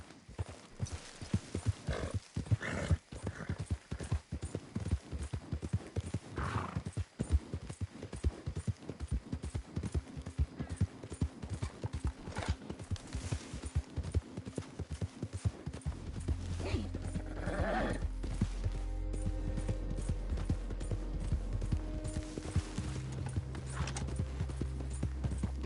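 Horse hooves clip-clop in a steady rhythm at close range with an occasional neigh, set in a wild west scene; a low rumble rises beneath the hoofbeats partway through, and some speech-like sounds occur.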